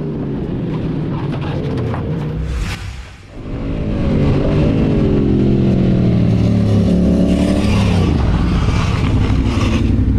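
Yamaha MT-07 street naked motorcycle riding loudly on a clean, dry road, its engine revving and rising in pitch, with a brief dip around a corner before the engine note returns strong and steady; no crash impact is clearly distinct.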